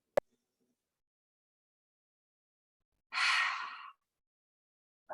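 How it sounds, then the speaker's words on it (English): During a yoga practice, one deep, breathy exhale sounds close and clear after a long quiet stretch, with faint short breath sounds before and after it. "3 big inhales and exhale. Last one, big breath in."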